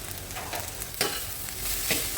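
Nasi goreng fried rice is stir-fried over high heat on a home stove, with a steady loud sizzle and scraping stirs of a spatula in the pan, and no talk.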